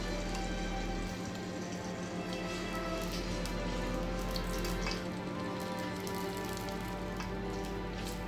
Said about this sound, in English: Then I will add the blended tatash and yellow pepper. Allow me to fry for a few minutes.